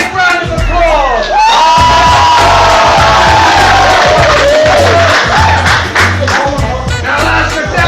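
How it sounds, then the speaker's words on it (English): A loud crowd of union supporters cheers, whoops and yells for McDonald's fast food workers at a New Zealand rally, sustained and dense throughout with shouting voices riding over the roar. "Give the workers of McDonald's Bread Mart a big round of applause!"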